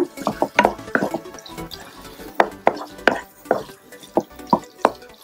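Onions and capsicum stirred in a pan with ketchup, a spatula scraping and tapping the pan in irregular close clicks and soft wet shuffles, with no voice.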